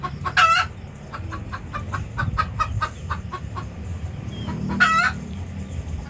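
Chickens cluck in a steady series of short calls near a hen about to lay eggs, with two louder, drawn-out squawking calls at the start and near the end over soft background noise.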